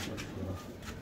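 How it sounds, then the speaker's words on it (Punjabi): Domestic pigeons coo softly in a brief, low, murmuring burst, faint and without talk. "ਤੁਸੀਂ ਕਬੂਤਰ ਬਾਹਰ ਹੈਗੇ ਜੀ ਕਬੂਤਰ ਹੀ"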